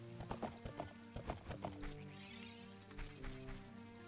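Horse hooves clip-clop in quick rhythmic beats in a Zelda game, close and clear and gradually easing off, with a brief shimmering chime partway through.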